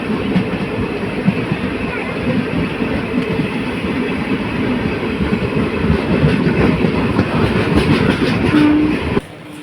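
Loud, steady rumble of a passenger train at Mahe station, with rolling wheel noise and rattling carriages filling the whole stretch before cutting off abruptly near the end.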